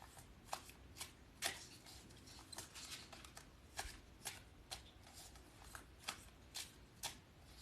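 A deck of tarot cards is shuffled repeatedly, giving a faint, steady rhythm of soft riffling slaps and papery rustles with no talking.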